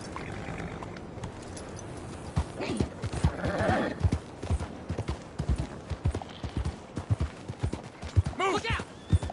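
Galloping horse hooves clatter in a quick rhythm with a neigh, set in a video game, while people talk over the hoofbeats.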